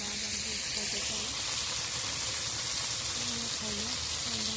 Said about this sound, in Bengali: ভালো করে ভেজে দিলাম।